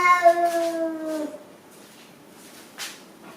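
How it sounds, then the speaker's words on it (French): Several unhappy cats meow in a drawn-out, tonal cry lasting just over a second, loud and close, followed by faint quiet with a brief soft rustle near the end. "alors là vous entendez, c'est mes chats. Ils sont pas contents"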